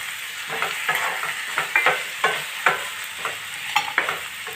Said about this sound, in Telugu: ఇప్పుడు ఉల్లిపాయలు కొంచెం వేగే కదండి ఇందులోనే టమాటాలు వేసుకుని